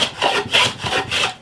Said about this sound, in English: So I'm just going to smooth this off now with this plane.